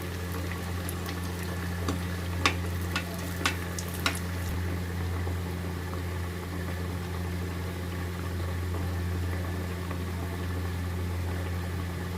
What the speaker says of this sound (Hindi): अब हमारा फ्राई हो रहा है, एक तरफ से फ्राई हो जाएगा तब इसको हम फ्लिप करेंगे।